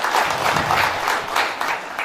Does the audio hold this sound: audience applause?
yes